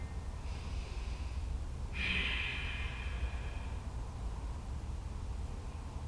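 Deep, slow breathing during a yoga side-body stretch: a soft inhale followed by one long, forceful nasal exhale, close and alone over faint room hiss.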